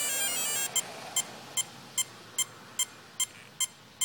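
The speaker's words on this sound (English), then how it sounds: "When you get to the red beeping like this" A Mamba electronic speed controller for an RC model emits a string of short, evenly spaced high beeps in programming mode, about nine quick pulses in a row, fairly faint with no talking.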